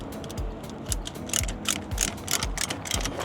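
A wrench being cranked on an RV during campground setup ratchets in quick, rhythmic clicks, with regular bursts of cranking repeating fairly close by and no talking.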